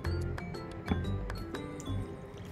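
A spoon stirring a teaspoon of cornstarch with water in a bowl, giving soft repeated clinks and liquid swishes at close range, quiet and irregular, with no talk.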